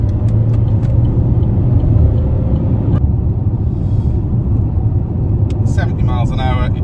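A 2011 Vauxhall Insignia 2.0 CDTI 160 automatic kicks down and accelerates hard from 30 mph, a loud, steady low diesel engine drone filling the cabin with a few brief clicks and sounds over it.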